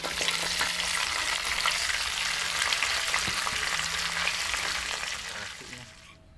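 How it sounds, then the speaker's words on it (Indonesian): Fish frying in hot oil, with a steady dense sizzle and crackle that holds loud and even for about six seconds before fading out. "Ini ikannya udah panas, kita goreng."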